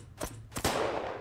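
A bolt-action sniper rifle fires twice in a shooter video game, with two sharp close reports, the second followed by a longer rumbling tail.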